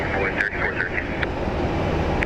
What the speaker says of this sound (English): 777 is coming in.